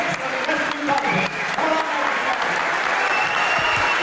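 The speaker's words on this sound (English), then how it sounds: "Even the referee applauding, Mick." Applause from a wrestling audience after a bout, a steady wash of clapping from a crowd that continues at an even level throughout.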